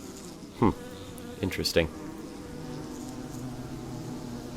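Bees buzz around Growthcraft bee boxes in Minecraft, a steady insect drone with a couple of louder buzzing swells while someone briefly speaks.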